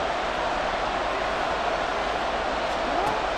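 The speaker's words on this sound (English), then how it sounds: "This Buffalo crowd letting him have it" A Buffalo stadium crowd in the Madden NFL 24 football game, Bills versus Ravens, keeps up a steady broadband roar that stays loud and even with no clear peaks.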